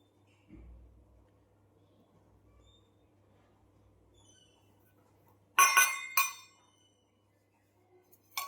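Steel bowl clinks against a steel parat while wheat flour is tipped in for churma ladoo: two bright metallic clinks in quick succession after a faint low thump, otherwise quiet.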